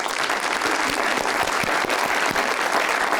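A studio audience on a television talk show applauds loudly and continuously, a thick patter of many hands clapping close by with no speech over it.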